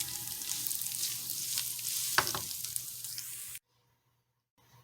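Garlic noodles are tossed with Parmesan and scallions in a sizzling pan. A steady crackle runs with a few sharp scraping stirs near the middle, then cuts off abruptly into silence, with a faint bump at the very end.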